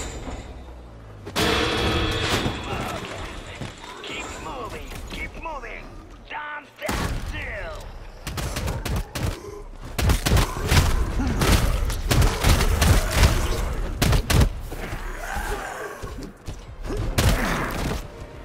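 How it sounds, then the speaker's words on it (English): Gunfire and heavy thuds from the video game Kiborg Arena, including a sawed-off shotgun, blasting in rapid bursts amid mechanical clanks, with someone talking over the action. "Sawed off shotgun, eh?"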